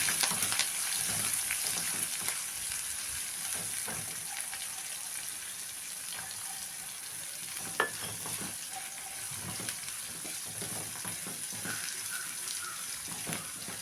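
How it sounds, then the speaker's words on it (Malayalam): Onion, green chili and garlic sauté in a pan for a spinach and jackfruit seed thoran, giving a steady close sizzle with scraping stirs throughout and no talking. "ഇനി നമുക്ക് സവാള, പച്ചമുളകും വെളുത്തുള്ളിയും കൂടെ ഇട്ട് വാട്ടാം."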